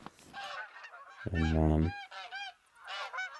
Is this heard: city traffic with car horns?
no